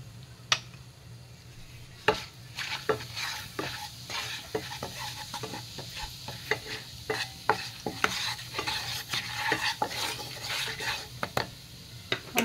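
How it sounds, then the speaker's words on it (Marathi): Masala with red chili powder and turmeric roasting in a pan for a cashew paneer peas curry, a faint steady sizzle broken by repeated scraping stirs of a spoon against the pan, close up. "ते भाजत आहे, त्याच्यानंतर हा मसाला घालत आहे, हे लाल तिखट घालत आहे, ही हळद घालत आहे"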